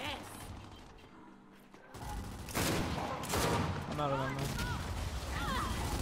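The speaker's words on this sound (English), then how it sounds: "Shots on that kid, Mopi." Gunfire in a Gears 5 ranked free-for-all match, bursts of shots mixed with game effects and players talking over the top.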